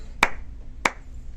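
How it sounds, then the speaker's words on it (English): Two sharp hand claps, about half a second apart, ring out close and loud against a quiet background during a toy review, with no talking between them. "I'll give you a clap."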